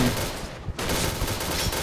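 Dense, continuous gunfire in the game Point Blank, including an explosive launcher, rapid overlapping shots with a brief dip partway through, loud and busy throughout.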